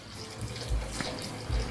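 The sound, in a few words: water being poured into oxtail stew pot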